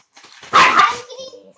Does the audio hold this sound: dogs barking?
yes